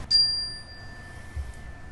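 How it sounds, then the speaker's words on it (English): A single chime is struck once to close a classroom session in a Denver school, ringing clearly and then fading slowly over a quiet room, with a faint soft sound later. "We are going to close with the chime."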